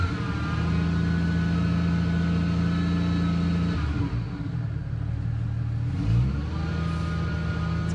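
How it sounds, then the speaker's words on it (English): A Jeep Grand Cherokee ZJ's straight-six engine idles steadily and close with a smooth, even hum, briefly dipping and settling again partway through, and no one speaks over it. "Pull down the window, you can hear it. Purrs just like a straight six should."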